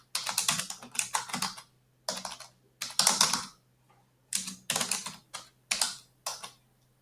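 Typing on a computer keyboard while setting up a Google Analytics account: close, crisp clusters of key clicks in short bursts separated by brief pauses, with a faint low hum beneath.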